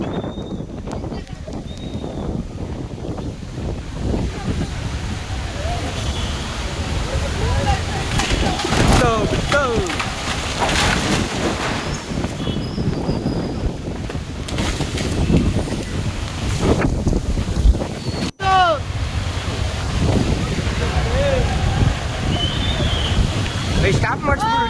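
Strong wind and rain lash Magadi Road in Bengaluru, a steady roar of gusts buffeting the microphone for the whole stretch, with muffled voices in the background.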